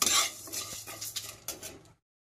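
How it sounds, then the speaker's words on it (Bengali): Whole spices stirred and frying in a heated kadai, with a steady sizzle and scraping of a utensil against the metal pan, close and alone, before the sound cuts off. "এই গোটা মশলাগুলো সব একসাথে দিয়ে দেবো। দিয়ে এটাকে ভালো করে ভেজে এটাকে আমি গুঁড়ো করে নেব।"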